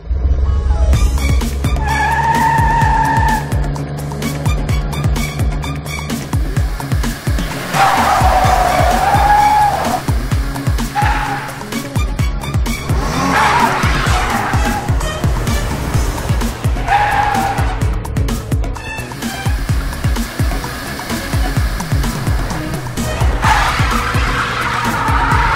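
A car speeds away with repeated tire squeals and skids under revving engine noise, loud and close, while voices talk intermittently over it.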